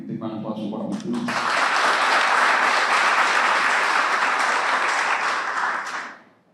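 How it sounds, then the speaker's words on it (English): Audience applause for a speaker at a water safety day event breaks out after a brief stretch of voices, swelling into loud, dense, sustained clapping for about five seconds before fading out. "Big round of applause for Barbara, please."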